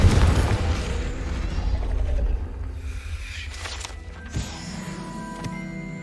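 The Confringo explosive spell in Hogwarts Legacy bursts with a heavy, booming blast that rumbles for about two seconds. Clanking mechanical rattles and a smaller thump follow as the game's ambience settles.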